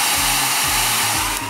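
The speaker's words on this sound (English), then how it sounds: "I'm using the hairdryer just to move the paint along there." A hair dryer blows steadily at close range, pushing wet paint across a page of a handmade hardcover journal, its loud broadband whoosh holding steady with slight motor pitch wobbles throughout.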